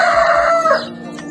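A rooster crows loudly and close at a village homestead where chickens and ducks are kept, one long crowing call with clucking around it.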